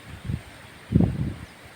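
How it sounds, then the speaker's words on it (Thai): Strong wind buffets the microphone in two gusty rushes outdoors under a cloudy rainy-season sky, with a low, rumbling texture and no voices. "ลมก็พัดมา แรงนะฮะ"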